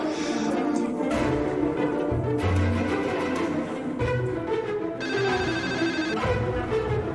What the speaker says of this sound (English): And strangely enough, he uses the same ringtone.